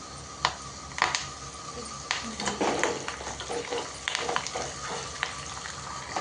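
Curry leaves hit hot oil, which crackles and spits steadily, with sharp pops and a continuous frying hiss throughout.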